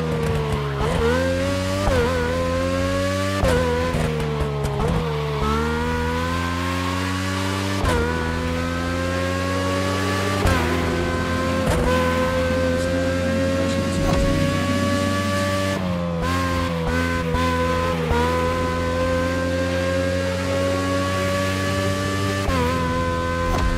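A Formula 1 race car in The Crew Motorfest, its high-pitched engine screaming continuously up and down through gear changes, loud and close for the whole stretch with no talking.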